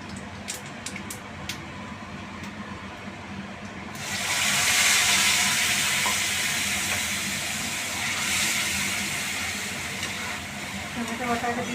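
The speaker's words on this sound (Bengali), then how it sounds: "ওই তেলের মধ্যে আমি অল্প জিরে দিয়ে দিচ্ছি।" Cumin seeds hit hot oil in a pan, bursting into a loud, steady sizzle after a few quiet seconds and hissing on evenly, close up, under faint kitchen background noise.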